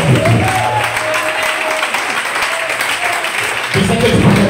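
A church congregation applauds steadily during a prophetic declaration service, a loud continuous wash of clapping with a voice speaking over it at the start and end.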